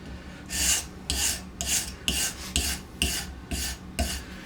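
A knife blade is stroked back and forth across sandpaper on an Edgewright sharpening system, giving a steady series of about eight raspy, close scraping passes with short gaps between them.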